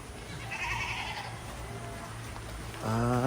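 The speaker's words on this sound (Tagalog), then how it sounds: "Oh, may kambing dito." A goat outdoors after a storm gives a clear, wavering bleat near the end, close and loud against a faint background hiss, with a fainter call earlier.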